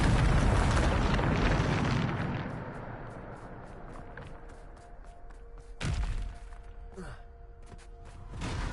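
A Bombarda spell cast in Hogwarts Legacy sets off a booming explosion that opens loud and rumbling, fades into a scattered crackle of debris, then a second heavy blast lands near the end.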